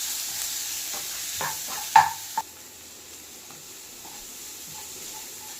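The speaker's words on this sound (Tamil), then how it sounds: "எல்லாத்தையும் ஒரு நிமிஷத்துக்கு வதக்கிக்கலாம்" Chilli powder, garam masala and crushed ginger-garlic sautéing in a pan for noodles, a brief sizzle with a few stirring scrapes and spoon clinks, then a quieter low hiss.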